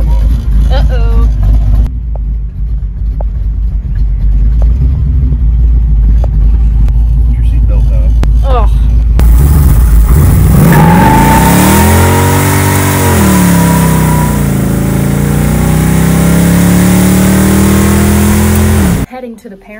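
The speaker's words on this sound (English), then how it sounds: "Going for a ride in the Firebird to get Elle some beer" Pontiac Firebird engine revving as the car drives off, a loud, rising and falling exhaust drone filling the second half after quieter idling and background talk at the start.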